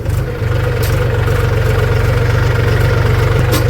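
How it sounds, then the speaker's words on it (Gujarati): A tractor engine idles with a steady, loud low-pitched throb and even mechanical pulsing, heard alone in a rural groundnut-farming setting with no talk. "આપણે ટ્રેક્ટર લઈ નીકળી ગયા છે"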